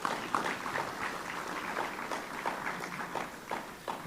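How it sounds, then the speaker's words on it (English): Audience clapping for first-time hackathon participants at a cybersecurity tech event: a steady, dense patter of hand claps over about four seconds, fairly close, with no talking over it. "So let's clap hands for them."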